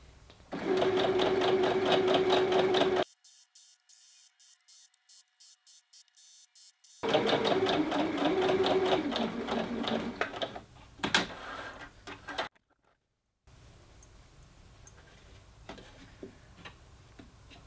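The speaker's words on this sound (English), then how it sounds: "So we're just going to start the next row of stitches here at 3/8, and away we go." A sewing machine stitches the next row of a tiered dress at a 3/8 seam, running in steady bursts with a brief pause in the middle, then slowing to intermittent clicks and handling noises near the end.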